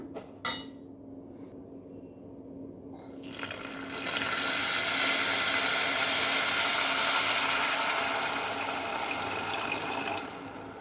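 After a brief metallic clink and a quiet pause, a steady stream of water pours into a pan of vermicelli stirred in ghee. It makes a loud, continuous rushing splash for about six seconds before stopping.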